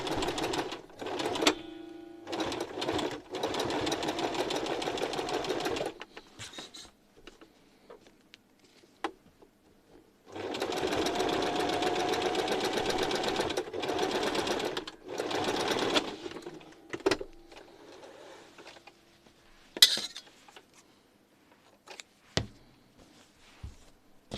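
A sewing machine runs a side seam on a skirt being upcycled into a bag, with two long rattling bursts of stitching, shorter starts and stops, and quiet handling noises in between.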